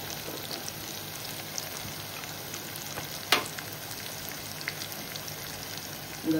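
Ground spices fry with cooked onion and tomato in a pan, giving a steady close sizzle throughout, broken by one brief louder scrape or clatter partway through.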